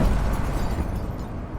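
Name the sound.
cannon fire sound effect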